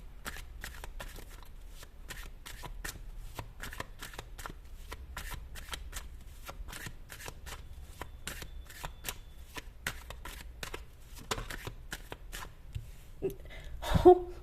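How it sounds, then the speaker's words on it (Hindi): Tarot cards being shuffled in a long run of crisp, rapid riffling clicks, steady and close, with a louder rustle and knock at the very end. "मैं शफल कर रही थी"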